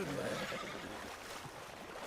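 A horse whinnies near the start amid a rushing, water-like background noise that continues throughout.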